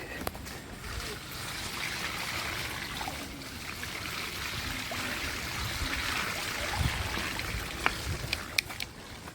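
Water at Puray Falls rushes and trickles in a steady broadband wash, with a few small splashes and clicks near the end, heard outdoors at moderate distance.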